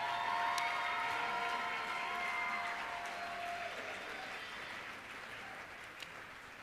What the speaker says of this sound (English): let's give each one of them a great round of applause